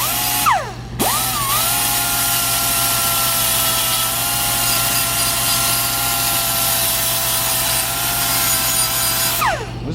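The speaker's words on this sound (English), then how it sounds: "This is that turbo grinder," A turbo grinder works steadily on the fender of a 1948 Chevy convertible, a loud, continuous high whine that spins up sharply at the start, holds for several seconds and winds down at the end, with no talking.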